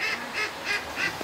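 A duck calls four times in a steady rhythm, each a short, nasal, honking note. The calls are close and clear over a faint background.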